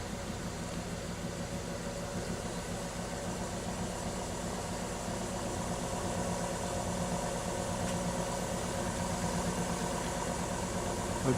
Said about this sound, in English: let's speed the DC motor up